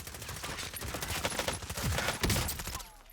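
Dense bursts of automatic gunfire from the video game Warzone rattle continuously, with rapid overlapping shots and heavy low thumps, loud and busy throughout.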